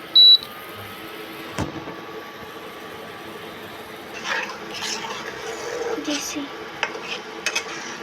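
Egg curry with coriander being stirred and sautéed in a pan: a spoon scrapes and clinks against the metal in bursts that grow busier toward the end, over a soft, steady background hiss.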